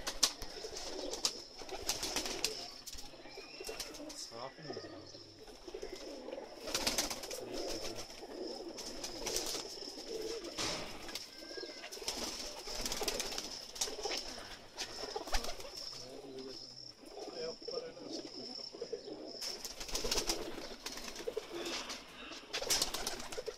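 Pakistani pigeons coo in soft, repeated throaty calls from a loft, fairly quiet and scattered across the scene, with occasional shuffling and faint background murmurs but no clear talk.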